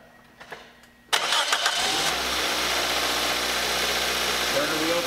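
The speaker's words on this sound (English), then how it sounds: "Start the engine. Run the engine at idle for a few minutes." A Toyota Matrix engine cranks briefly and catches, then settles into a steady, close idle. The engine runs alone with no talk over it.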